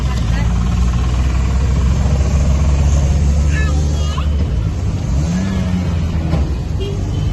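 An auto rickshaw engine drones and rumbles steadily while riding from the station, loud and close, with people talking over the constant motor noise.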